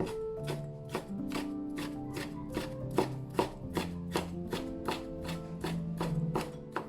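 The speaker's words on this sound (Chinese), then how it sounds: "洗净的酸菜稍微来一点， 切碎。" A knife chops washed pickled cabbage (suancai) on a board in a home kitchen, giving a steady run of about sixteen crisp, evenly spaced close-up strikes over a low background hum.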